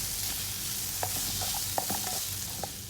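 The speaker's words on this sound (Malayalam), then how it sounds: "അപ്പം മീഡിയം ഫ്ലെയിമിലിട്ടിട്ട് നമുക്കിതൊന്ന് നല്ലപോലെ വഴറ്റിയെടുക്കാം." Chicken breast pieces sautéing in a pan over a medium flame give a steady close sizzle, with soft scraping and stirring clicks scattered on top.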